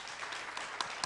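Applause from the audience at the close of the JDC agricultural strategy session of a Jeju international 6th-industry expo conference, a steady dense wash of clapping with a few sharper claps standing out, moderately distant.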